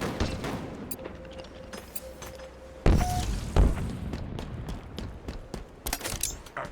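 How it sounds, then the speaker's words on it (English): Grenades explode in a Halo match, with a couple of sharp booms near the middle amid a bed of game gunfire, clicks and mechanical clatter. "You throw 2 really good grenades."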